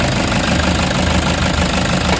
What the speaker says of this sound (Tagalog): So maingay yung kanyang rocker arm.